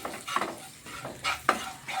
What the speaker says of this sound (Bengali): এখন ভালো করে এই মশলাটা একটু ভেজে নিচ্ছি